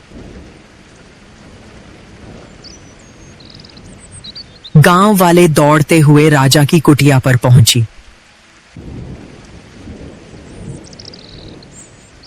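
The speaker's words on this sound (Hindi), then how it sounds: "तभी अचानक एक दिन गांव में बारिश होने लगी।" Steady cartoon rain with rumbling thunder patters throughout, briefly covered by a loud narrating voice midway before the downpour returns alone.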